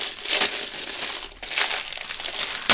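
Close, loud crinkling and crushing of plastic wrapping, with a brief pause midway before the rustling resumes.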